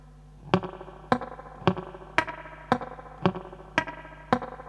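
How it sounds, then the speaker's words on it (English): Eight evenly spaced, sharp muted guitar string plucks in a hybrid picking pattern, with a percussive, dampened attack, repeating in a steady rhythmic pattern with no talking. "And that picking pattern, if you mute the strings and listen"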